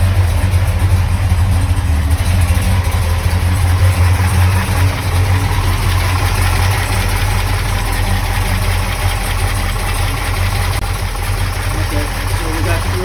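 Mopar 440 V8 idles through a light warm-up, a loud, steady low rumble with a faint whine on top, continuous for the whole stretch.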